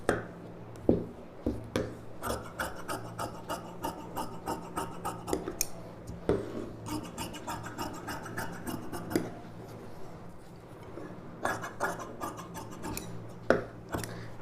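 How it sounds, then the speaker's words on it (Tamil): Sharp scissors cut through folded silk fabric for a boat-neck blouse patch piece in a tailoring setup, a steady series of close snipping and rasping strokes with no talking. "இதுலேருந்து பட்டி பீஸ் இதே சேம் சைஸ் அப்படியே கட் பண்ணிக்கலாம்."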